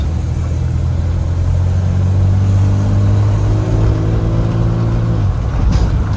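A 1952 GMC truck engine running loud and close as the transmission is shifted into first gear, its low hum rising in pitch then dropping sharply near the end with a brief clunk.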